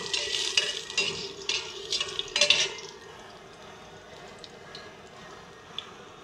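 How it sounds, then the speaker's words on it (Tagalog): Garlic sautéing in a pan: a bright sizzle with quick bursts of stirring and scraping over the first few seconds, then settling into a steadier, softer fry close by. "Gigisa na natin yung bawang."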